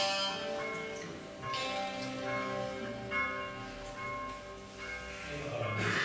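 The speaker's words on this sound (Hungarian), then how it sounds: "A bimbam is jókor szólal meg." A church bell rings in repeated sustained strokes, with tolling tones overlapping and decaying, moderately loud and steady, with no one speaking.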